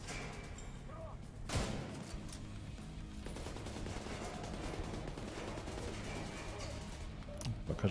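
Dense, continuous gunfire in the video game Tom Clancy's The Division 2, with sharp bursts and a heavy thump early on, sounding like a rapid firefight throughout.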